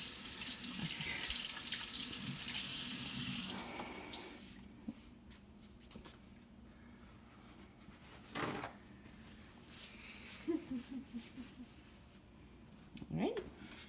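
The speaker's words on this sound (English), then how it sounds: "you want to rinse your hands off the slimy stuff?" Tap water runs steadily as slimy hands are rinsed at a sink during guacamole preparation. The flow is fairly close for the first few seconds, then stops, leaving quiet drips and clatter while people talk.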